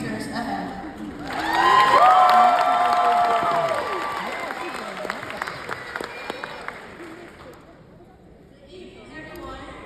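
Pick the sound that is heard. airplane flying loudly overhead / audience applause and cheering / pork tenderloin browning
audience applause and cheering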